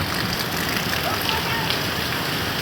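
Heavy rain in a village in Junagadh district, Gujarat, roars steadily as a dense, hissing wash of noise, loud and continuous throughout, with water running through the village.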